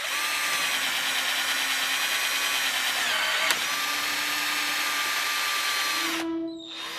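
A power drill whirs loudly and steadily for several seconds, its pitch wavering slightly, then winds down and stops near the end.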